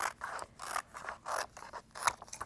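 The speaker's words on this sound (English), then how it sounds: "what I'm gonna do is go ahead and trim out my design so that I am not wasting any of that excess material" Scissors cutting through heat transfer vinyl while trimming out a design: a rapid series of about half a dozen crisp snips and slicing scrapes, close-up and fairly quiet, with no talking.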